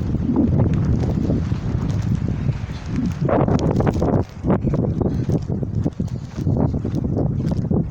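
Strong, freezing wind at minus 10 degrees Celsius roars and buffets the microphone continuously, with rumbling gusts that dip briefly before surging again, loud and close.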